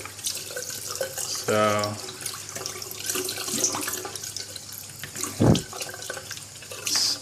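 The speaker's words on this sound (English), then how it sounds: "just make sure you rinse all the parts." Parts of an Eheim Quickvac Pro aquarium gravel vacuum rinsed under a running tap, continuous water splashing into a sink with a few brief louder gushes, someone speaking briefly over it.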